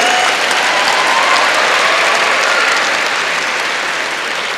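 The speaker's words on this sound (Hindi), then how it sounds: "तो लड़कों के लिए एक बार ताली होनी चाहिए।" Applause from an audience at an education function honoring boys, a thick, even roar of many hands clapping together, loud and sustained without a break, tapering slightly near the end.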